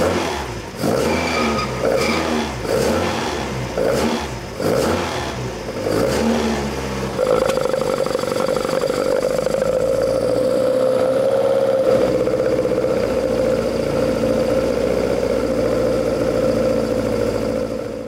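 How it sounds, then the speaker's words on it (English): An Opel 16-valve Red Top engine on 45 Webers first blips through several rhythmic revs, then settles into a steady, gargling idle close by, with no talking. "When you struck it up to warm it through, that gargle from the 45 Webers."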